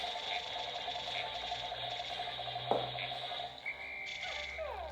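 Frogs croak steadily in the Pikmin video game, a repeating low rhythmic croaking that runs the whole way through against a busy, constant game soundscape, with a brief louder knock near the middle.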